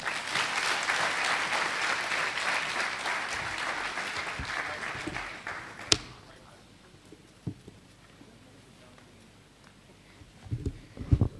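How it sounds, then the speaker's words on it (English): A university ceremony audience applauds for about six seconds in a dense wash of clapping, which then stops abruptly and leaves a quiet room with a few scattered knocks and rustles. "Shall we give another round of applause for our Vice Chancellor?"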